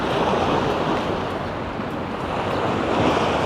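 Strong wind buffeting the microphone by the open sea at Gozo, a loud continuous roar mixed with crashing waves, with no talk.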